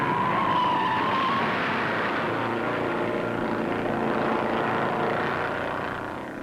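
Race cars roar past at the 1958 Daytona Beach and Road Course, a dense, loud engine rumble that swells and holds, then eases slightly toward the end, with no voices.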